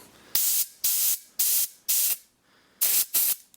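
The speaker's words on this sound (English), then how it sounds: "What I used was shop air, and I would just blow right there" Compressed shop air blasts into the ejector of an SKS rifle in six sharp, separate hissing bursts, each about a quarter second long with short silent gaps, loud and close with no voices.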